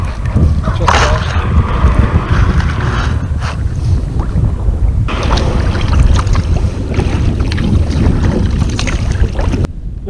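A sea kayak paddles through shallow water along a rocky coast, with steady splashing and water rushing against the hull under continuous wind noise, close and fairly loud throughout.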